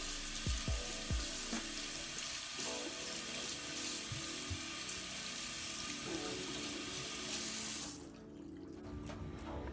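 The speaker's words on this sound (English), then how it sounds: "I'll just rinse them off. I'm gonna use lukewarm water, not real cold," Lukewarm water runs from a tap over hands while nails are rinsed, a steady close hiss and splash that cuts off abruptly near the end.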